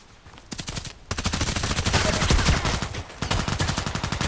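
Rapid automatic gunfire from a sniper-focused shooter game, loud repeated shots in long bursts with a short pause near the start and another brief break later.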